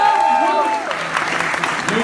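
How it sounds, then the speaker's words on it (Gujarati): Audience applause at a Gujarati poetry contest breaks out after a short tonal sound, then continues as a steady, dense wash of clapping with voices mixed in. "તો તાળીઓથી દેજો એને ઇનામ."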